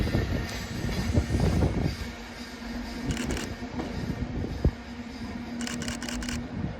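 A train rolls through a crossover at Carlisle station, a steady rumble with a sustained low hum and scattered clanks and clicks of wheels over the points, fairly close and without talk.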